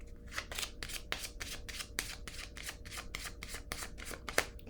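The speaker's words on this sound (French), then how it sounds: "Je vais déposer une autre carte." Tarot-style cards being shuffled and laid down: a rapid run of crisp riffling flicks in steady rhythm, close and soft, ending with a light tap as a card is placed, with no speech.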